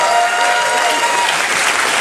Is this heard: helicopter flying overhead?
no